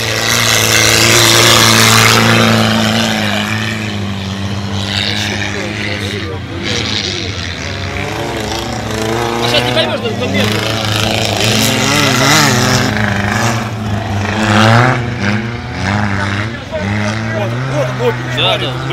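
Autocross cars in a contact survival race run at full throttle nearby, with engines roaring and revving in rising and falling waves while excited spectators talk loudly over them.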